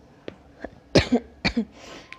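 Two pairs of sharp, close coughs from a person with a cold and runny nose, each a quick double burst, preceded by a couple of softer throat sounds.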